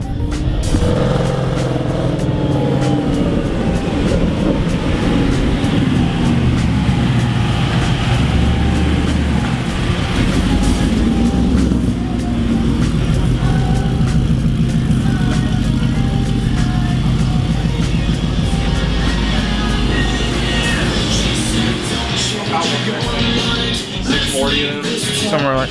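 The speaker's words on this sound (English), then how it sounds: "Sebastian's pulling his Whippled S550 in right now" A Whipple-supercharged Ford Mustang S550 pulls in nearby with a loud, steady engine rumble and a little revving, going on for about half a minute.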